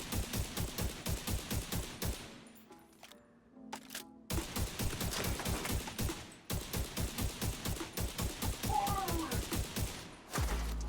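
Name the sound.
gunfire in The Division 2 video game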